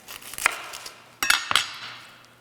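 A knife cuts a red onion on a cutting board with a few sharp, separate chops and clacks, one single strike followed by a quick pair, close and fairly quiet.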